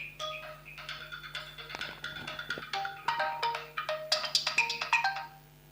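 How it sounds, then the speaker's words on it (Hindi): Mobile phone ringtone going off during a chemistry lecture: a bright electronic melody of quick repeated notes plays for several seconds, moderately loud and alone, then stops. "एक मिनट रुको भाई, फोन आ गया है।"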